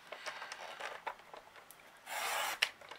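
A Stampin' Up paper trimmer blade slides along its cutting track through a sheet of cardstock, giving soft repeated scraping strokes and then a louder, steadier rasp near the end, close and alone.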